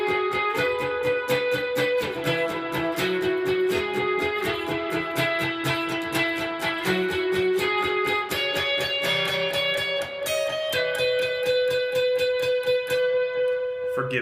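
Electric guitar plays a worship song with fast picking, a steady stream of quick bright notes and sustained tones running continuously and close throughout, with no talking.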